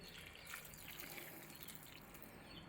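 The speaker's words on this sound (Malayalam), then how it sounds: "ഈ മുക്കാ കപ്പ് വെള്ളം അങ്ങോട്ട് ഒഴിച്ച് പാത്രത്തിലോട്ട് ഒഴിച്ച്" Three-quarters of a cup of water is poured into a cooking pot for pineapple pachadi, a faint, soft trickling splash that continues evenly for a few seconds with no voices.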